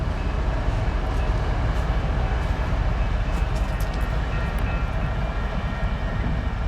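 A CNW coal train of steel coal cars rolls past close by with a continuous heavy rumble and rattling roar that holds steady the whole time, no talk over it.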